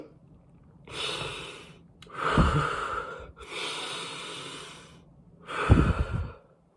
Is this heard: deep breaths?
yes